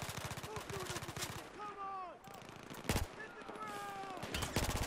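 Rapid bursts of automatic gunfire crackle in Battlefield 4, loud and close, with sharp shots repeating in quick strings, pausing briefly, then resuming.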